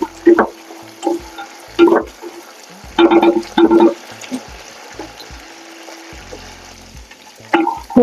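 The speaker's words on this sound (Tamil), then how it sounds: "பூண்டு நல்லா வதங்கிடுச்சு" Garlic frying in a clay pot for a Rohu fish curry: a steady, low sizzle broken by several louder bursts of stirring and scraping, with a few faint murmurs in between.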